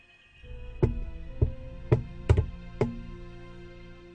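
A handful of sharp knocks and thumps on wood, irregularly spaced, close by, like something climbing up a wardrobe in a quiet room.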